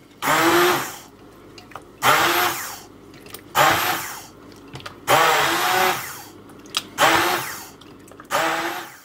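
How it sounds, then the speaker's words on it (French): Cauliflower soup with coconut milk is puréed by a blender in six loud bursts of whirring motor, each about a second long, separated by short pauses with faint clicks, close by. "Maintenant, je vais mixer tout ça."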